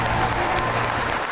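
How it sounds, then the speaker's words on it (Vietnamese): A studio audience at a televised star performance show claps steadily, a dense, even wash of applause that holds at moderate loudness for the whole short stretch with no voices. "Một tràng pháo tay lớn hơn nữa nào."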